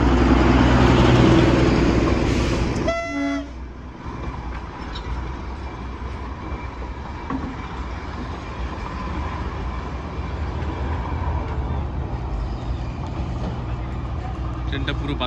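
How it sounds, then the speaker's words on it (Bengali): The Darjeeling toy train rounds the Batasia Loop, opening with a loud burst of horn or steam. A brief run of rapid clicks follows, then a steady mid-level rumble of the running train, with a voice talking over it. "ট্রেনটা পুরো বাতাসিয়া লুপ ঘুরবে এখন"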